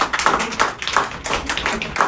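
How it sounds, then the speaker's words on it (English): Applause at an award ceremony celebrating CAT exam achievers, a short burst of dense, steady clapping from a gathered audience, fairly loud and close with no talk over it. "huge round of applause for you"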